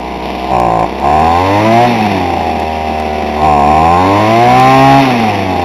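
Old Homelite string trimmer engine running with no choke, a loud buzzing two-stroke drone that rises and falls in pitch through repeated revs, close and steady with no talk.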